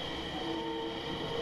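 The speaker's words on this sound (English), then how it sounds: "oh, a train!" A train rolls past in The Norwood Suite video game, giving a continuous, even rumble with a faint whine on top, moderately quiet and with no one talking.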